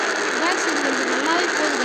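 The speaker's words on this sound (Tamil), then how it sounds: "இன்ஜினும் ஆன் பண்ணியாச்சு." A remote-control vehicle's engine in the Roblox game RC Park runs as a continuous buzzing, whirring drone. It stays loud and close throughout the short stretch, with no pause.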